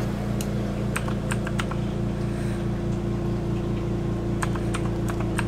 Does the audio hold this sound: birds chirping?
no